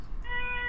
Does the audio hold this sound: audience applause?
no